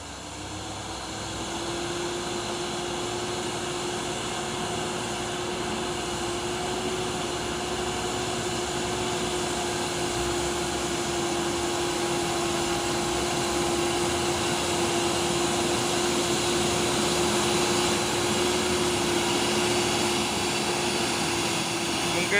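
A bus engine strains while climbing a hill, giving a loud continuous drone with a steady low hum throughout.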